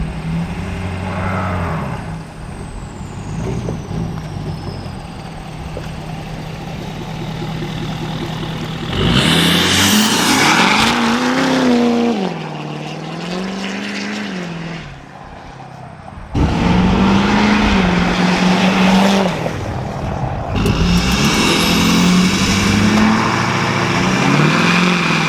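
A pickup truck's engine hums and revs as it drives, rising in loud acceleration bursts with tire and road noise between quieter stretches.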